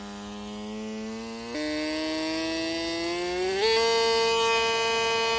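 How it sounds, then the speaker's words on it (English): A small pump motor under PIC12F675 microcontroller PWM control whines steadily as a strong harmonic tone, stepping up in pitch twice as the duty cycle is raised, loud and close with no talking. "It's starting to pump now."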